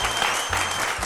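A studio audience on an Armenian TV game show breaks into brief, energetic applause, a dense clatter of many hands filling the moment evenly.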